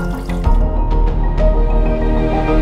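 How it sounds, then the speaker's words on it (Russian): Water dripping and trickling back into a vat after handmade paper pulp is scooped with a paddle, close splashes and distinct drips over a steady liquid patter. "Зачерпываем."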